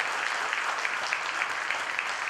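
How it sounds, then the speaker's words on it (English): A hall audience at a Bharatanatyam dance academy performance gives a round of applause, a dense, even, continuous clatter of many hands. "they need to be given a round of applause"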